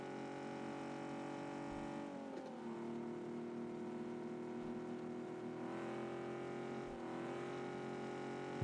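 A two-seater motorcycle in the PUBG video game has its engine running with a steady droning hum that dips and rises in pitch a couple of times as it revs, moderately quiet with no voices.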